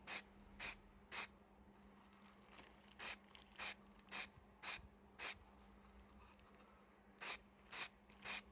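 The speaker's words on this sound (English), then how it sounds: "let's get the base coat of primer on here" Short bursts of primer base coat from an aerosol can hiss onto a Hot Wheels car, about a dozen quick sprays in irregular clusters, close and crisp over a faint steady hum.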